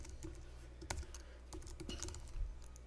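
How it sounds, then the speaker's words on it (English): Quiet, steady tapping on a computer keyboard while an email address is typed, with small clicks at an irregular rhythm and a few louder key strikes, heard close up and alone. "I'll go ahead and type in some extra email address here."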